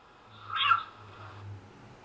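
A young bobcat kitten gives a single short meow-like cry near the start, faint against a low steady hum, and is otherwise quiet.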